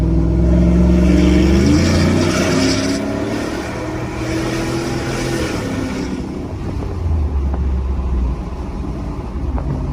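A 2018 Ford F-150 pickup truck's engine rumbles and revs steadily throughout, loud and close, with a low droning roar and no voices.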